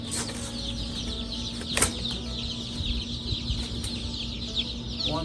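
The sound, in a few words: chickens clucking, pasture raised egg-laying chickens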